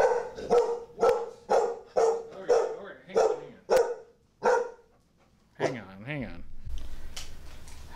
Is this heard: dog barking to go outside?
yes